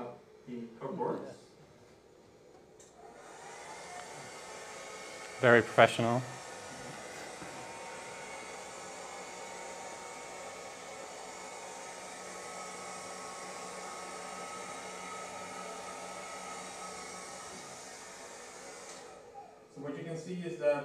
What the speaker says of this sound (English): I've got a hair dryer in my hand, and I'm gonna warm up the clock boards.